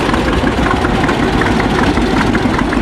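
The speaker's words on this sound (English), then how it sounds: "One of John Deere's smallest 2-cylinders was the H. That's the one going by now." A John Deere H, a small two-cylinder tractor, runs close by with a steady, loud, low chugging engine throb and rough vibration, no voices over it.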